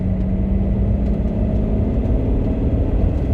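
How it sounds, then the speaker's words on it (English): A BMW 530d E60 with a straight-six diesel engine drives along, giving a steady, loud, low engine drone mixed with road rumble from inside the car, with no break. "I do love the sound of that straight six. Even though it's a diesel, it still sounds really meaty."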